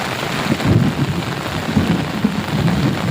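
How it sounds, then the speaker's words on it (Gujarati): Heavy evening rain falls in a village during a thunderstorm, a dense steady roar of downpour with rolling low thunder rumbles swelling and fading under it, loud and close, no voices. "આમ તો એટલી વીજળી થાય છે કડાકા ને ભડાકા બોલાવે"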